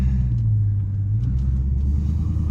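A Dodge Charger Scat Pack idles and rumbles deeply through loud exhaust pipes, a heavy, steady low drone heard from inside the car without talk.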